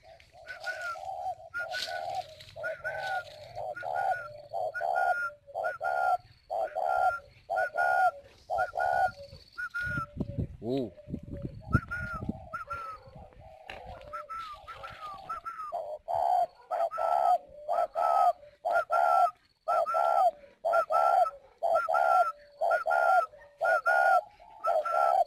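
Pigeons in a coop coo in repeated, rhythmic phrases, close and clear, with a brief burst of rustling and flapping midway before the cooing resumes steadily.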